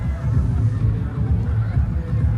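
Crowd at a schools rugby league match between Lumbini College and Piliyandala Central College, a steady low roar of cheering and babble filling the whole stretch without clear peaks.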